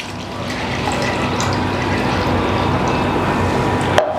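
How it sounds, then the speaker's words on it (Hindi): Water is poured steadily from a tap or container to mix with powdered raw material for a small home business product, a continuous close splashing wash with a brief clink near the end. "सबसे पहले हमें पानी लेना है"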